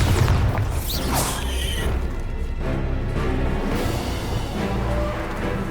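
A Bombarda blasting spell goes off in Hogwarts Legacy, a loud booming explosion near the start that rolls into sustained rumbling battle noise and whooshes, with no talk over it.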